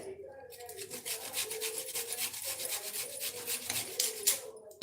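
A utensil scrapes and stirs roasted semiya upma in a pan on the stove, producing rhythmic, close scraping strokes in repeated bursts, moderately loud and without talk.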